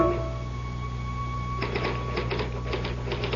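A typewriter clacks in a quick, irregular run of keystrokes as a radio-drama sound effect, starting after a moment of steady hum and continuing close and moderately loud with no voices.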